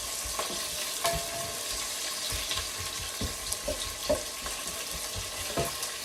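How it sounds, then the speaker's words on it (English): Onions crackle and sizzle in hot oil in a pan while a utensil scrapes and knocks against it in repeated stirring strokes. "so my oil is done. I put in the onions. I give it a stir a little bit."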